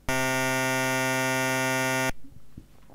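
A loud, steady synthesized buzzing tone from a custom hand-drawn waveform instrument in GB Studio's music editor holds for about two seconds, then cuts off abruptly into quiet room noise.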